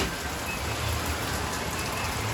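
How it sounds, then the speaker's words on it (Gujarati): Steady rain pours down in Surat in a dense, even hiss with no pauses or voices. "સુરતમાં આજે વરસાદની શરૂઆત થઈ ગઈ છે જો બહુ મસ્તીનો વરસાદ આવે છે"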